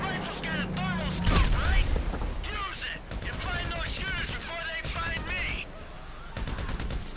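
Gunfire in Grand Theft Auto V with shooters on a railway track and a rifle with a thermal scope, rapid shots crackling under near-constant talking voices through the whole stretch.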